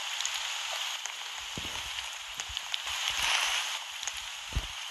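Rain in the Roblox Brookhaven game, a soft steady patter of drops on surfaces with a few sharper taps, fairly quiet and without speech.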